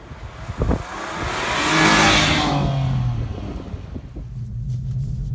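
BMW M2 Competition with its DCT gearbox pulling away, the engine rising in a loud, close rev that swells and then settles into a steady drone as the car moves off.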